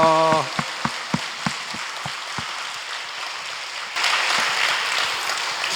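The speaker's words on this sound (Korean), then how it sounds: "크게 영광의 박수 올려드리겠습니다" A church congregation bursts into dense, sustained clapping that rattles like heavy rain. It starts under a few spoken words and grows louder and fuller toward the end.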